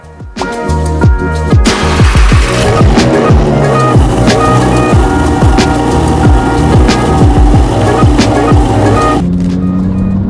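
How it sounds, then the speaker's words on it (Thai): A Lamborghini engine starting up: a loud, close roar with rapidly sweeping revs that rise and fall repeatedly, then drops off abruptly just before the end. "ก็ยังไงก็เดี๋ยวจะไปละสตาร์ทรถเลยดีกว่า"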